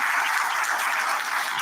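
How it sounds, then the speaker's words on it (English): Steady applause from a large audience at a college welcome function for new engineering students, dense and continuous clapping filling the whole moment without pause. "with a huge round of applause"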